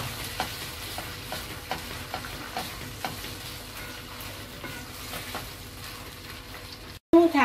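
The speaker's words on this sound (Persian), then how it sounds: "تقریبا تو روغن سرخ شده، کاملا رنگش عوض شده." Steady sizzling of ground meat frying in oil, with faint periodic scrapes of a spoon stirring, ending in a brief cutoff.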